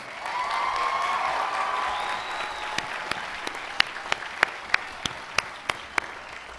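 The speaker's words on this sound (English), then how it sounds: "Please give these outstanding students a round of applause" A commencement crowd at a business administration graduation applauds outstanding students; a broad roll of clapping fills the hall, then thins out into a few distinct, sharp individual claps near the end, with faint voices underneath.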